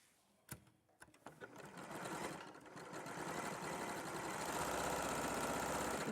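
A sewing machine stitching fabric pieces together starts after a few soft knocks and handling sounds, then runs in a steady, rapid mechanical whir that grows louder and holds to the end.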